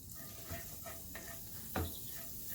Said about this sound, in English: I'm just going to put that right in the pan, and we're just going to sweat that off for a couple minutes.